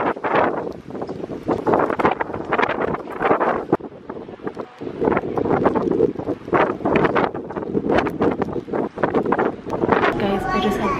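Typhoon wind in Japan roars across an outdoor microphone in steady, buffeting gusts, loud and continuous for the whole stretch, with a voice talking over it.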